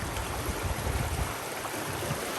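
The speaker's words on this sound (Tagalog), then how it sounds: "Yan, ang ganda ng ilog." River water flowing steadily outdoors, a continuous broad rushing wash with no talk over it.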